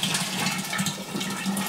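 Hot water is poured into an English-style IPA homebrew mash, making a short, steady gushing splash close by.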